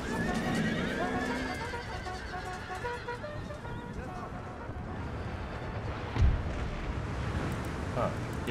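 Horses neigh and hooves clatter in a galloping video game battle, several whinnies early on over a steady rumble of hoofbeats, with a deep thump later and a voice talking underneath.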